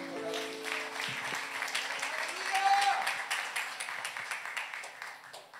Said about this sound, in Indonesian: Boleh kasih tepuk tangan saudara.